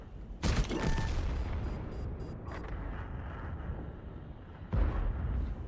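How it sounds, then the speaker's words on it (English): Artillery fire in a tank video game, two heavy booming blasts a few seconds apart, each with a long rumbling tail, loud and close with no talking. "it looks like artillery takes care of him"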